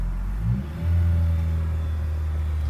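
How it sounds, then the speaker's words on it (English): A car engine is revved in first gear with the clutch failing to engage, giving a low rumble that swells in a short rise and then holds at a steady, loud drone. "rev it in first gear"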